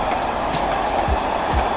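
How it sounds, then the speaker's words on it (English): A train passes by near a riding path in an outdoor setting, a continuous broad rumble with faint rail clatter, steady and fairly loud throughout, with no voices. "So every once in a while a train comes through."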